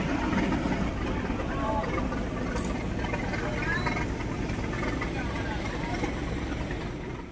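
The idling engine of a fishing boat, TRF1029, hums with a constant low, throbbing drone close by, easing off slightly at the end.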